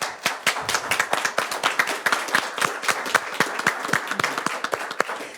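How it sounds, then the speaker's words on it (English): Applause from an audience at a City of Flint press event celebrating a major accomplishment: a sustained burst of many hands clapping, fairly close and steady throughout, with no talking over it. "please give yourselves a round of applause"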